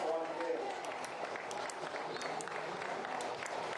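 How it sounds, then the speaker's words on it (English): Faint, distant crowd applause at a Gaelic football intermediate semi-final as a player leaves the field, a soft continuous patter of clapping from the stands with crowd noise and talk over it. "Ben McGurn is coming off the field there to rapturous applause"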